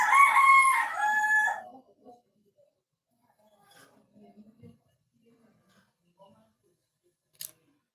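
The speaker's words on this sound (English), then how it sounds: "This my chickens making noise." Chickens and a rooster: one loud, close rooster crow opens the scene, followed by faint scattered clucks and small rustles in an otherwise quiet setting.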